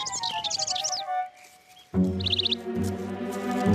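Small birds chirping in a cartoon setting, quick high twittering bursts near the start and again after a short pause, over soft background music.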